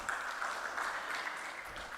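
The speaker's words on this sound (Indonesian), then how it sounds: "Kita beri tepuk tangan untuk panitia pelaksana dulu." Audience applause for the event committee at an SPS Riau executive board inauguration ceremony, a steady dense wash of clapping holding at even loudness throughout with no gaps.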